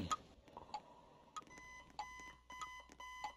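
Alarm in the Roblox toy factory game Us Are Toys, a series of short, bright electronic beeps repeating at a steady pace over a faint low hum, no voices.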